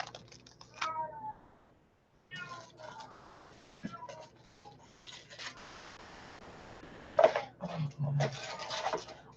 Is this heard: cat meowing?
yes